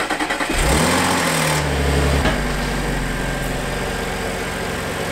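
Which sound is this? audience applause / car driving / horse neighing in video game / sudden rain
car driving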